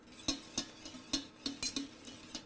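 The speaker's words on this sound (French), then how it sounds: "On remue bien, sinon ça va accrocher." A spoon stirs a boiling agar-agar mixture in a pot, giving quiet, close metallic scrapes and clinks in an uneven rhythm of about eight strokes over a soft background hiss.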